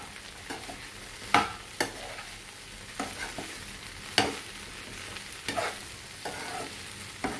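Okra stir-fry (vendakka thoran) being stirred in a pan, a soft sizzle punctuated by repeated sharp scrapes and clinks of the spoon at an uneven rhythm, close and alone.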